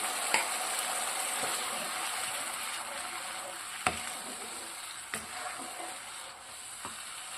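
Beef pickle gravy simmers thick in a pan as a quarter cup of vinegar goes in, giving a steady close sizzling hiss with a few sharp clicks and knocks scattered through.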